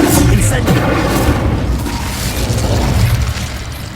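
Incendio fire spell blast in Hogwarts Legacy, a loud booming burst of flame with rumbling low end that swells and carries on, with a voice speaking over it.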